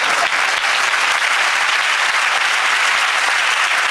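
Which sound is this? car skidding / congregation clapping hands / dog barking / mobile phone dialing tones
congregation clapping hands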